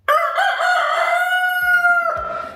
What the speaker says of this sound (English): Next up, we have Foghorn Leghorn, a rooster who is looks like ready to talk to us a little bit